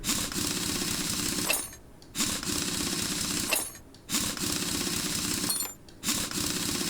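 In Car Mechanic Simulator 2021, a power tool removes a car wheel's nuts in three buzzing bursts of about a second and a half each, separated by short silent gaps, with no talking.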